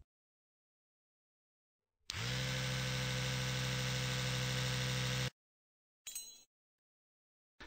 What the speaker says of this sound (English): Polish the filling using the polishing instrument.